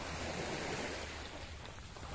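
Sea waves wash onto an empty beach in Spain in a steady, soft roar, with some wind noise and no voices.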